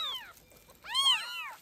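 Kittens mewing in short high cries, one thin call first and then a cluster of overlapping meows a moment later, close and fairly soft with quiet in between.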